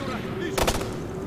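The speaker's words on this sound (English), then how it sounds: "There's a guy shooting at me." A short burst of gunfire in the video game Ghost Recon Future Soldier, a few quick loud shots fired mid-clip over a steady background hum.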